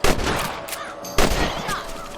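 Rifle fire at rabbits in the video game Red Dead Redemption on PS3: two loud, booming shots about a second apart over continuous game ambience.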